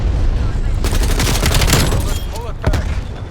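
Rapid bursts of gunfire from Call of Duty Cold War, dense and loud throughout with a sharper shot near the end, while a voice talks over the game.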